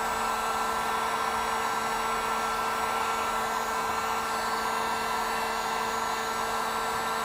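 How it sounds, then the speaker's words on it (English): A heat gun gently warms a Masterverse Masters of the Universe Man-At-Arms action figure, giving a steady, close-up blower whoosh with a faint electric hum that holds constant from start to finish without any talking. "that was some light heat with a heat gun"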